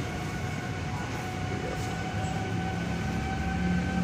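Metro train running at Chhatarpur metro station, a steady rumble and hum of the train with tonal whine throughout, continuous and fairly loud with no talk.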